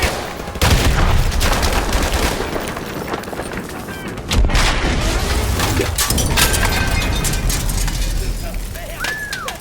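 Tank main gun fire in Call of Duty 4 comes as two heavy blasts, the first near the start and the second mid-clip. Each is followed by crumbling debris and dense, loud battle noise, with voices under the din.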